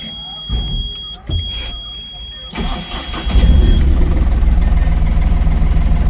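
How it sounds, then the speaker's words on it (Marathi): A truck's diesel engine cranks and catches, then settles into a loud, steady idle after a few seconds of starting noise, with a high electronic beep or whine early on. "आता गाडी चालू करून बघूया"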